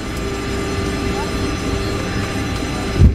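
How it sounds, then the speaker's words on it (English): Airplanes at an airport produce a steady, distant low engine drone with faint tonal whine, heard as if from inside a terminal, ending with a soft close thump. "Are you looking at the planes out there?"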